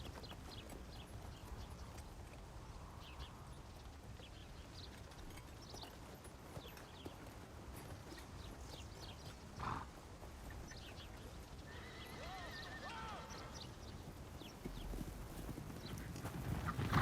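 A horse clip-clops steadily with occasional neighs and whinnies in an action adventure film scene, hooves moderately near under a low ambient bed, growing louder toward the end.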